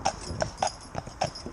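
Hooves of a four-year-old Shire horse in harness clip-clop in a quick, even rhythm, about five distinct strikes, moderately close and fairly quiet.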